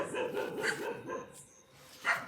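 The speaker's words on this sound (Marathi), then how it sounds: "काय पिसळलेलं कुत्रा आलंय का बघून या पटकन" A dog barks in a rapid string of close, sharp barks, then gives a few more scattered yips after a short pause.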